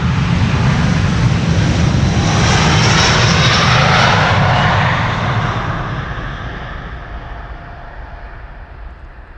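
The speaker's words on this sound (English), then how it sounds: "A330 Neo." A Delta Airlines Airbus A330neo departs Amsterdam Schiphol, its engines roaring loud and close with a steady broadband rush that swells, then gradually fades as it climbs away.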